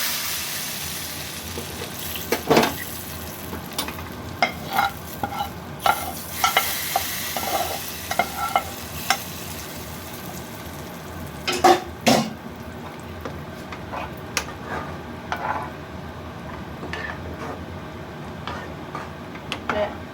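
A spoon stirs fried tempering into a sizzling pan of tarka (Indian lentil curry), with scraping strokes and bursts of frying at an uneven rhythm, close up, and no one talking.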